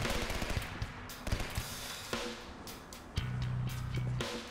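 Gunfire in Halo, bursts of rapid shots and sharp cracks popping at mid distance over a constant game background, with a brief steady hum toward the end.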